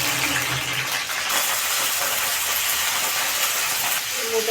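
Green chillies dropped into two spoons of hot oil for a ridge gourd chutney, a steady bright hissing sizzle throughout with a brief dip near the first second, and a voice speaking over it.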